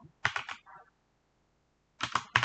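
Keys on a computer keyboard clack in two quick bursts of typing as C# code is written in Visual Studio, with a silent pause between the bursts and no speech.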